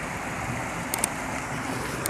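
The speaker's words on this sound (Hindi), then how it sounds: "ये जो आबशार गिर रही है" Waterfall at Nandi sends down a constant rush of falling water, a steady, loud, broadband roar with no other clear sounds above it.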